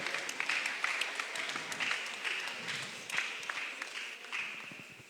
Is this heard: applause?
yes